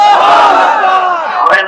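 A large crowd at an Islamic sermon gathering shouts the takbir response together, a loud, sustained massed cry of many voices lasting under two seconds.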